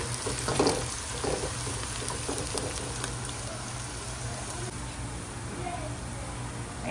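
Ghee and onions fry in a pot for pulao, a steady close sizzle running throughout with some faint clatter near the start.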